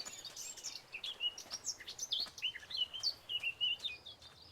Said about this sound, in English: Some good bird noises, I'll tell you what.